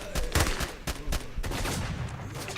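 Gunfire in the video game S.T.A.L.K.E.R. crackles in rapid irregular bursts of shots, loud and close at first, then continuing in a denser rattle.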